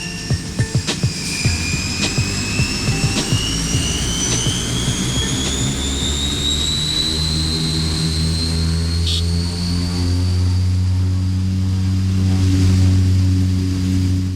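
An aging Fokker 27 turboprop airliner runs its engines at full throttle for takeoff, a loud sustained propeller-and-turbine roar with rising whining tones, heard from close inside or beside the aircraft.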